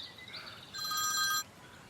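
A telephone rings once in a short electronic trill lasting under a second, heard faintly indoors against a quiet room.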